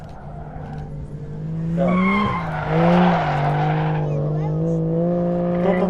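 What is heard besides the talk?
drift car warming its front tyres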